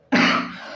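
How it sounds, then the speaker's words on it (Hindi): A single short cough from one person, sharp at the onset and then trailing off, close and fairly loud in an otherwise quiet room. "सॉरी खांसी हो रही है"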